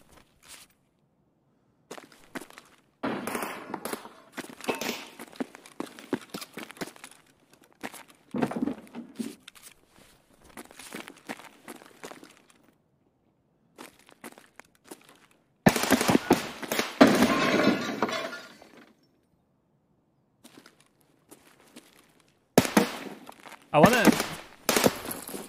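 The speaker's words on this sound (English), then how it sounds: "He's still shooting me through walls." Gunfire rings out in the video game Escape from Tarkov, irregular loud bursts of shots and rapid volleys separated by quiet gaps, with movement sounds and a voice talking between them.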